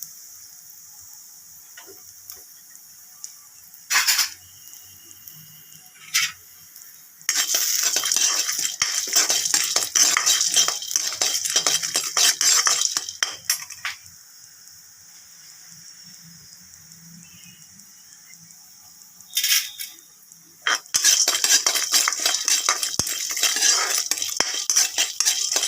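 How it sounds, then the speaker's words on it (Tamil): Urad dal and chana dal roasting dry in a pan, stirred with a metal spoon in bursts of rapid scraping and clinking, separated by quieter stretches of faint crackle. "நல்லா செவக்க வறுக்கணும்."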